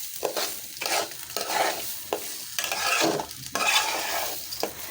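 Rice fries in a pot while a spoon stirs it in repeated strokes, each pass a scraping rustle over a light sizzle, close and rhythmic with short pauses between strokes.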